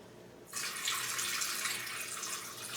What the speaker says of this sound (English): what I'm draining is actually just water